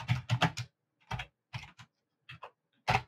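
Close, fairly loud keystrokes on a computer keyboard, falling in irregular clusters of quick taps separated by brief pauses.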